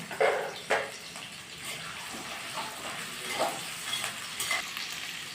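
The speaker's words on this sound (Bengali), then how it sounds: "আমার এখানে তেল গরম হয়ে গেছে, আমি এবার এগুলোকে পেঁয়াজগুলোকে দিয়ে দিলাম।" Onions dropped into hot oil for mutton do pyaza, crackling and sizzling close by, with a few louder bursts as pieces hit the pan and then a steady hiss of frying.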